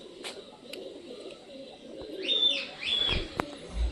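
Pet pigeons give a couple of soft cooing calls at close range, with a few faint chirps and light clicks over a low, steady background.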